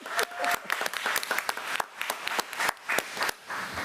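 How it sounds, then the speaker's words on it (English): An audience applauds during a school committee-of-the-whole meeting. The clapping is moderately dense and uneven, with sharp individual claps standing out in a steady patter that runs for a few seconds without fading. "Let's give her a round of applause."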